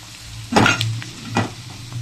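A spatula stirs coriander into a snake gourd fry in a pan, giving two short scraping strokes over a steady low sizzle, close and moderately loud.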